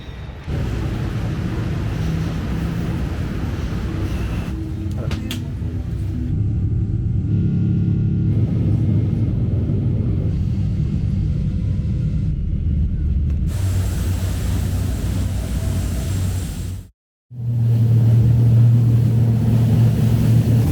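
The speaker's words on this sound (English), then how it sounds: "I'm on the boat again" A steady low boat engine rumble drones on with wind buffeting the microphone, briefly cutting out before resuming just as strong.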